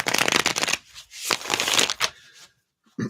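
Two quick bursts of cards being riffled and shuffled, crisp and close, followed by a brief pause and a soft tap.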